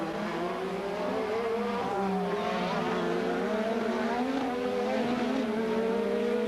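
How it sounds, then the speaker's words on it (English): 1986 Formula 1 turbo racing cars, a Ferrari chasing a TAG turbo-powered McLaren at Monaco, drone steadily with rising and falling engine pitch as they pass at a moderate distance, continuous throughout. "Alboreto's still able to fend off the TAG turbo-powered McLaren"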